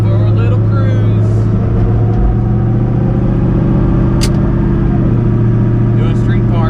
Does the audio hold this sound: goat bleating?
no